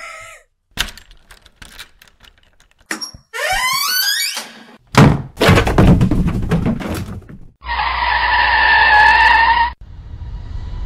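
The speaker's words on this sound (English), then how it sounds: "Just wait for this sound effect of a door slam." A door slam sound effect played on a podcast, heard as a sharp, loud thunk among other brief, punchy effects, with no talking over it.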